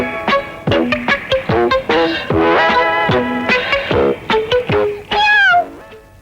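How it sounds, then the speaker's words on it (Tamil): A cat meows over and over in quick, strident calls, with a few longer drawn-out cries among them. It sounds close and loud, heard in a comedy scene. "பூனை சத்தம் இங்கதான் எங்கேயோ கேக்குது?"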